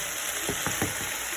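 Tomato paste being stirred into a sizzling pan for Syrian lubee with string beans and chicken, a steady fry hiss with several soft scraping strokes of the spoon close by.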